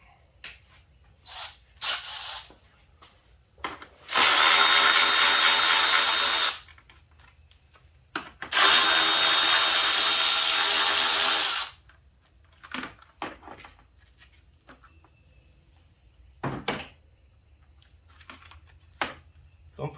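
Two long bursts of a power tool whirring as it loosens bolts during engine and transmission removal on a 2000 Toyota Camry 2.2, each a few seconds, separated by a pause, with scattered clicks and clanks of metal around them.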